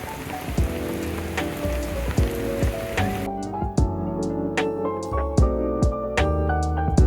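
Heavy rain pours down on a flooded city street in Osaka near Namba, a dense steady hiss of drops hitting the surface with a few sharper splashes and tonal background sounds throughout.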